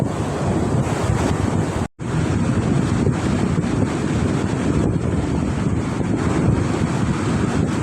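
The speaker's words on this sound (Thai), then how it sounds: "ฝนมานะครับลมแรงมาก" Strong wind roars continuously into the microphone at a riverside fishing spot before rain, mixed with a surf-like water rush, loud and unbroken apart from a brief cut near two seconds.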